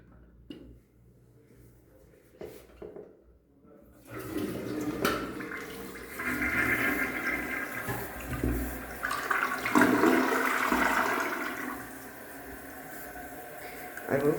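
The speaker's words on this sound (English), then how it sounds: "Let's give it a flush." A D&D Valen/Klipen toilet with a cracked bowl is flushed: after a few seconds of near quiet with small clicks, a loud rushing swirl of water surges, churns and gurgles for about ten seconds, then settles into a softer refill hiss.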